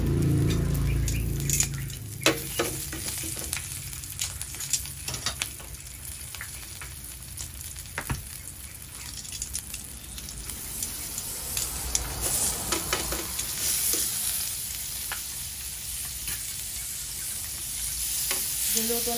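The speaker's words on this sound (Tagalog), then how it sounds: "Niluto natin yung garlic sa margarine." Garlic frying in margarine in a pan, a steady soft sizzle with frequent stirring clicks and scrapes, close and fairly quiet.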